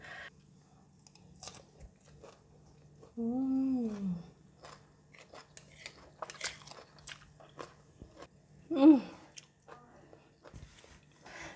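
Someone chews steamed mussels with crunchy vegetables and fried onion close up, with soft wet bites and crunches scattered through quiet pauses and a couple of brief hums or vocal sounds.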